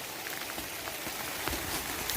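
Rain falling outdoors near a house in rural Thailand, a dense, steady patter of drops on surfaces, close and constant with no voices.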